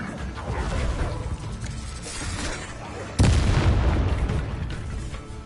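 A fire spell cast in the video game Hogwarts Legacy: a dense, roaring rush of fire and magic effects, with a sudden loud burst about three seconds in that keeps whooshing strongly afterward.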